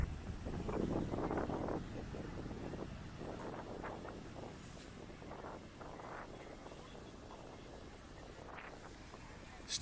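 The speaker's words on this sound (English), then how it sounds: "Too bad it's a little too windy to fly my drone." Steady wind blows across Playa del Carmen beach, a constant rough rumble buffeting the microphone throughout, with faint sea or boat sounds mixed in.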